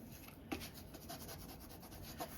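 A small spatula scraper smoothing and pressing fabric down onto a fabric-covered paperclip for a color journal, heard as soft, close, continuous rubbing strokes with a couple of light taps, quiet and without talk.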